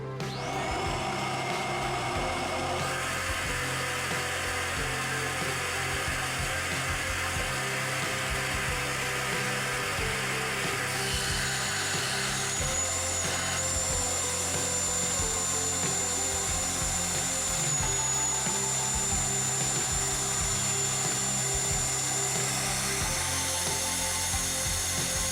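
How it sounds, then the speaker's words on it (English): Carburetor on a flow bench for a Ford 302 build, air drawn through a rear barrel in a steady, loud, continuous rushing roar with a faint high whine partway through. "Now I'm going to flow test one of the rear barrels just to see if there's any difference between the front and the back."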